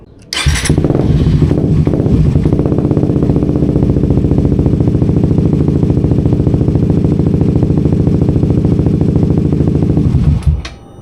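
A Suzuki GSX 150 motorcycle engine with an aftermarket exhaust on the stock ECU runs loud and steady for about ten seconds under throttle, with a sharp clack at the start and the engine cutting out at the end.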